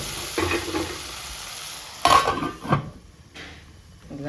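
Cluster beans frying in a pan are stirred with a spoon, giving a soft sizzle with a couple of sharp metallic scrapes and clatters near the middle, then quieter frying.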